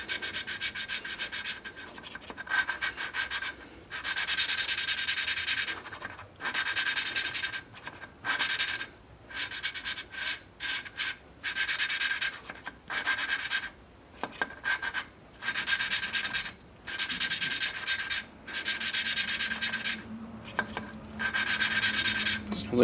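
Steady, gritty rubbing strokes repeat in bursts with short pauses, a close, raspy polishing sound on a glass-head Briggs engine, with no one talking.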